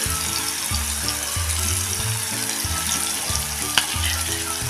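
Tomato sautéing in a pan, a steady close sizzle with rhythmic low scraping and stirring strokes repeating about every half second, one sharp clink near the end.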